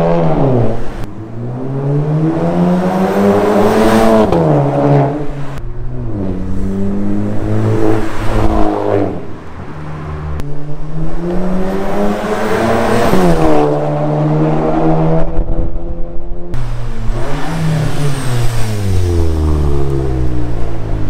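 A VW Golf 7.5 GTI with a straight-through exhaust, catalyst and centre silencer removed, revs loudly from outside in repeated long pulls, each climbing sharply then falling back with a short pause between, four or five rises in all.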